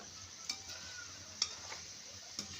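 Spinach and onion bhaji frying in a kadhai, a faint steady oily hiss with three soft ticking taps from the spoon at spaced intervals, no talking.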